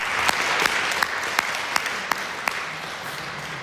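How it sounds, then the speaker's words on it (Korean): Congregation at a Sunday worship service gives a welcoming round of applause for a visitor, moderate steady clapping with a few louder individual claps standing out at regular intervals. "박수로 환영해 주십니다"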